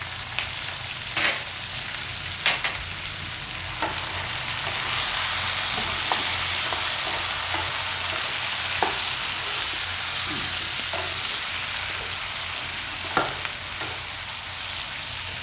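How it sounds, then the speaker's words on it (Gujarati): Kasuri methi and kitchen king masala fry in hot oil, a constant close sizzle with occasional stirring clicks and scrapes, no voices. "તો આમાં આપણે નાખીશું કસૂરી મેથી, આ રીતે થોડીક આ રીતે તેલમાં નાખીએ"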